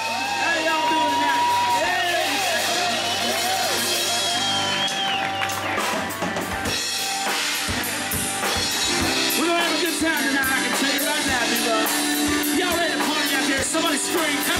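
A concert crowd at the Pig Pen Entertainment Venue cheers, whoops and yells loudly and continuously as a country band is introduced, with dense applause noise throughout.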